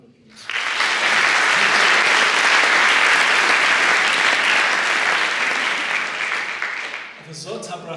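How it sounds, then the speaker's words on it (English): At a school matric valedictory ceremony, an audience bursts into loud, sustained applause for the teaching and support staff. The clapping starts abruptly, holds for about seven seconds, then fades as a voice begins speaking. "Please give them a round of applause."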